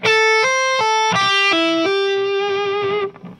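Electric guitar pentatonic legato lick on two strings, with hammer-ons and pull-offs repeating the same pattern. A quick run of clear, close notes stepping up and down rings alone and fades at the end.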